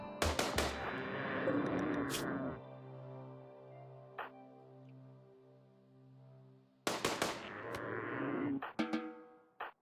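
Bursts of RimWorld gunfire come in two dense volleys of rapid cracks, separated by a quieter stretch with a steady hum and a lone shot, then several sharp single reports trailing off.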